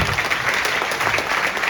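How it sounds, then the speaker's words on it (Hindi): A crowd of students at a gathering claps loudly and steadily for parents and teachers, a dense, close wash of applause. "अपने माता पिता के लिए, अपने गुरुजनों के लिए खड़े होकर एक बार जोरदार तालियां बजाइए।"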